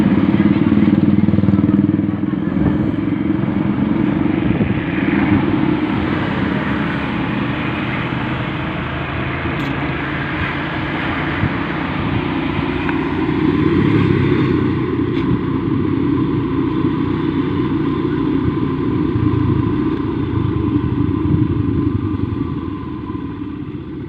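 A motorcycle engine runs steadily close by on a rural road near rice fields, a continuous loud rumble that eases slightly midway before building again, with voices talking over it.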